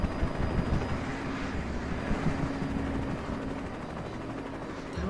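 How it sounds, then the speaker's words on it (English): A helicopter drones steadily with a dense rotor wash in Alan Wake, loud and continuous, with a low rumbling hum and no talking over it. "they're gonna attack the helicopter?"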